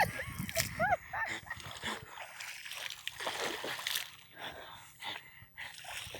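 A person jumping into water at a reservoir in Phetchaburi, with sharp splashes and sloshing bursts amid excited voices and shouting, close and lively.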